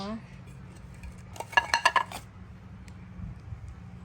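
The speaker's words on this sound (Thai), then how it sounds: "แล้วใส่จานก่อนนะคะ" Rayong Monthong durian pieces set down on a plate, a quick cluster of clinking, scraping contacts lasting under a second, close and fairly clear over a quiet room hum.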